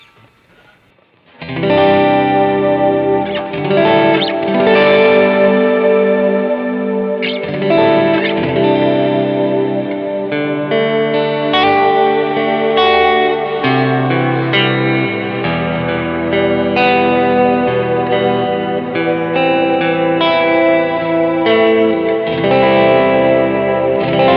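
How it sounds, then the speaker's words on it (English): Electric guitar played through a Strymon Big Sky reverb pedal set to a bold, in-your-face reverb, loud sustained chords and notes blooming into a thick, washing tail that fills the whole passage. "here's a little bit more of an in-your-face reverb"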